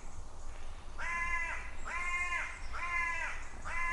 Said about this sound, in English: Apart from the crows.